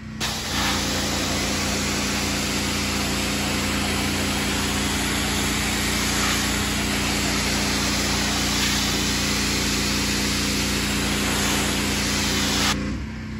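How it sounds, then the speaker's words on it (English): A pressure washer sprays teak outdoor furniture at close range with the nozzle held near the wood, producing a loud, continuous hissing blast over a constant pump drone that runs almost without a break. "you can increase the power on your pressure washer if you need to"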